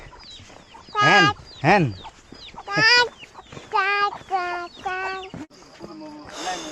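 Chickens cluck and cackle nearby along a mountain trail at about 2700 metres, with several loud, rising calls followed by shorter clucks, and a voice briefly speaking.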